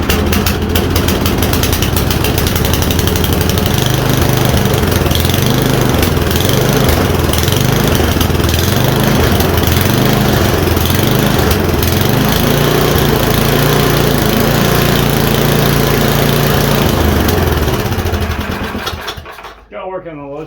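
An MTD snowblower engine runs loud and close with a rough, pulsing, uneven chug, surging in rhythm for most of the stretch before dying away near the end.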